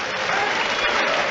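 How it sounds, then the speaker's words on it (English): A brief burst of steady applause from Coventry City fans in a football stadium during a match against Stevenage, dense clapping throughout with no breaks. "Polite applause from the City fans"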